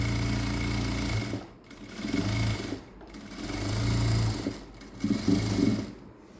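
Sewing machine stitching the lining of a princess-cut blouse, running in steady, close, loud bursts of rapid mechanical whirring with three brief stops between runs.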